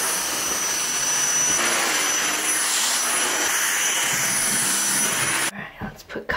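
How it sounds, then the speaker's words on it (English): A household vacuum cleaner runs loud and close, cleaning up dead foot skin, with a steady roaring whine that cuts off near the end, leaving a few faint knocks and a brief voice. "I need a vacuum because there's now like dead foot skin everywhere."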